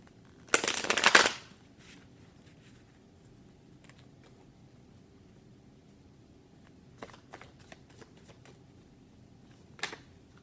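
A deck of cards is riffled in one quick, crisp burst near the start, followed by quiet handling with a few soft taps and clicks later on.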